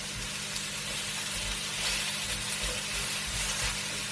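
Mushrooms fry on a hot pan, giving a steady, close hiss of sizzling that holds evenly throughout with no talking over it.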